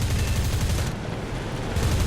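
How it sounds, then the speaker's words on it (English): Rapid bursts of high-explosive 20mm cannon fire from a fighter plane in a War Thunder night dogfight, a dense, loud, continuous roar of shots that dips briefly mid-burst before surging again. "his plane is not going to stand up against the many high explosive 20mm cannon rounds that I had at my disposal"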